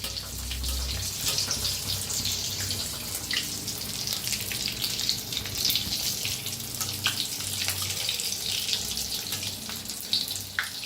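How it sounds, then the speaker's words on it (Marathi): Vada for vada pav deep-fries in hot oil, a steady close bubbling sizzle with occasional sharper crackles, no voices. "आता छान तळून घ्यायचं."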